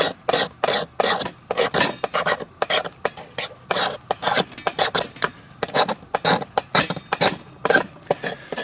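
A knife edge scrapes a fire-starter handle to shave off tinder: loud, rapid rhythmic rasping strokes, close up, about two or three per second, with brief pauses.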